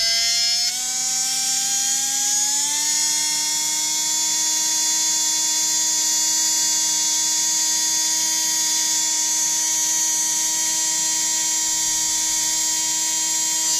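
A Kyosho 550 electric RC motor spins up at 7.2 volts to a steady, loud high-pitched whine with strong tonal harmonics, rising briefly in pitch during the first few seconds before holding constant, with no talking.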